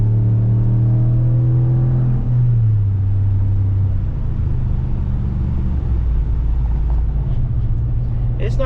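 A 2019 Ram 1500 pickup with its muffler deleted rumbles in a deep, steady exhaust drone. The engine pitch shifts downward around two seconds in, then settles into a loud, continuous low growl without any talk.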